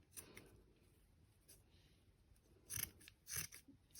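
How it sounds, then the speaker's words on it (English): Scissors snip through a round yarn pom pom for a cat hat, giving a few close, crisp cuts that come in short bursts with quiet pauses between them. "I'm just going to trim it so it looks nice and round."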